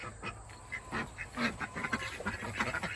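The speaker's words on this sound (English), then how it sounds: "I got my ducks out running around." Several ducks quack in bursts while running around outdoors, calls overlapping in an irregular, busy chatter at moderate distance.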